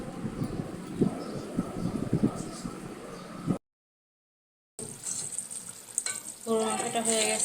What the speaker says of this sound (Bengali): শুধু গরুর মাংস রান্না করছি